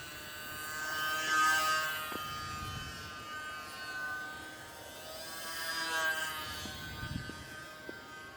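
Small electric motor and propeller of an E-flite J-3 Cub UMX RC plane fitted with a 5.7 x 3 prop, buzzing faintly in flight, the whine swelling and fading twice as it passes, with no talk.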